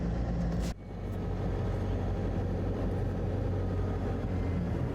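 CMAR R 2500 cleaning vehicle driving toward a job site, heard as a continuous loud low engine drone with road rumble; a brief knock early on interrupts the otherwise steady sound, and no one speaks.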